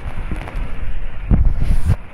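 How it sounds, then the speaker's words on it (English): Strong, sudden gusts of wind buffet the microphone outdoors during heavy showers, a loud, low rumbling roar that surges in bursts, swelling hardest midway and again near the end. "This wind's got strong all of a sudden"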